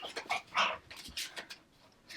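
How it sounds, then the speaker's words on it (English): An anxious dog whimpers and whines indoors in a string of short, high, faint cries with brief pauses between them. "Sorry if you can hear the dog. He's kind of having a little bit of a freak out himself."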